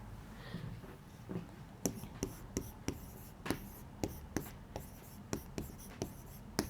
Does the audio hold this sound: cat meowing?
no